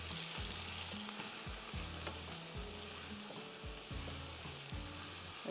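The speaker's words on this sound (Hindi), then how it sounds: "बस अब आप इसको भूनेंगे कम से कम 5-7 मिनट" Chicken and onions fry in a pot for a chicken and vegetable pulao, giving a continuous dense sizzle with a low rhythmic thumping from stirring, close and steady, with no voices.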